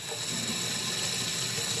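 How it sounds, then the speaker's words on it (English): Tap water runs steadily while a plastic hand sanitizer bottle is rinsed out, a continuous close hiss and splash with small rattling knocks and no talking. "Gonna rinse out your hand sanitizer bottle until there's no soap left in there and it's just water."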